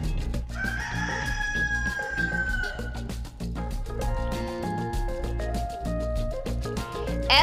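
A rooster crows once in a long drawn-out call over a busy musical backing, with a few clucks and a whinny-like sound mixed in; no one speaks.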